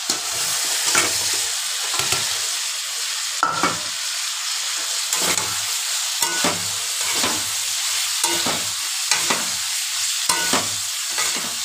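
Potato and pointed gourd stir-fried in spiced oil, a spatula scraping the pan in steady repeated strokes over a constant loud sizzle, with no voices.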